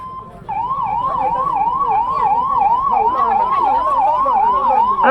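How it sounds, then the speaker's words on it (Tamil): An ambulance siren wails loud and close at a crowded election campaign rally, starting after a brief pause and then cycling in a fast, regular up-and-down yelp to the end. "ஆம்புலன்ஸ் வருது கொஞ்சம் வழிவிடுங்க"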